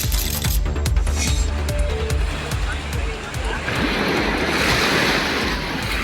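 Sea waves wash steadily at the Tiruchendur Subramania Swamy temple beach, where the water has receded and devotees are bathing. The surf rushes close and continuously, with wind buffeting the microphone and scattered sharp splashes.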